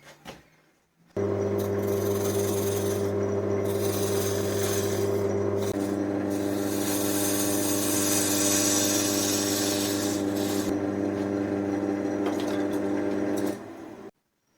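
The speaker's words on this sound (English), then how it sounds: "I'm going to turn down this tenon now" A wood lathe turning down a tenon on a piece of laburnum wood gives a loud, steady motor hum with a continuous scraping rasp of the tool on the spinning blank, running unbroken for about twelve seconds before stopping.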